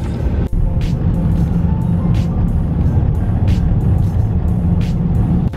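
A car rolls along a road in Los Angeles, heard as a loud, steady low rumble of engine and tyre noise from inside the vehicle, with a brief thump near the start.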